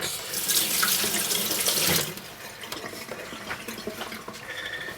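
Running kitchen tap water rinses a chopping board at the sink, a loud, steady gushing stream for about two seconds that then softens into lighter splashing and trickling.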